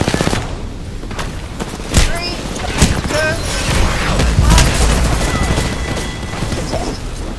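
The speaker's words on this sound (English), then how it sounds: "I'm getting shot from 5 different angles" Gunfire in the video game Apex Legends comes as dense bursts of rapid shots, sharp cracks and booms layered over one another, loud and close, with a voice speaking now and then.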